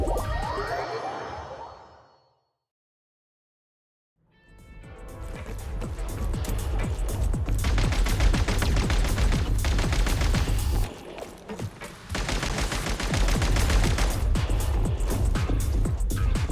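Sustained automatic gunfire in a shooter video game, a brief effect fading to near silence, then long, loud, dense volleys of rapid shots with a short dip before firing resumes at full intensity.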